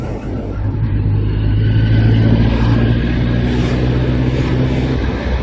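A lorry rolls past on a road beside scaffolded buildings, its deep engine rumble steady and close for about five seconds, with other road traffic blended in beneath it.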